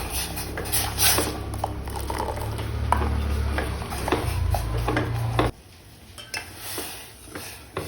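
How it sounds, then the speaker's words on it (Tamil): Black urad dal porridge stirred in a pot, a spoon scraping and clinking against the metal over a low burner hum, with the steady background cutting off near the end. "இப்போ கிளறி விடுங்க."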